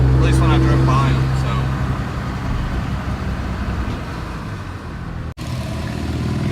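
A 700hp Cummins diesel truck drives along with a steady, loud low engine rumble that holds throughout, broken by one brief dropout near the end. Talk runs over it at first.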